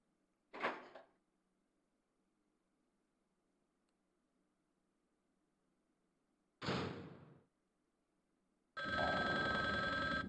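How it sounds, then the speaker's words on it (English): A telephone rings in the PlayStation game Resident Evil Survivor, two short separate bursts and then a longer sustained ring that carries on to the end, each loud against a quiet low hum. "Can you hear the phone? I think they're calling me."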